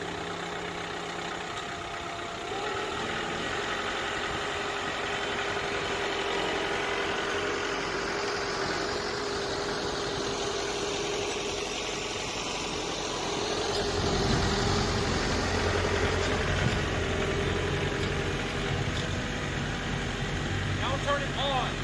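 A John Deere 4052R compact tractor engine runs at a steady idle, then its low rumble thickens and rises partway through as the throttle is set, continuing as a close, constant drone.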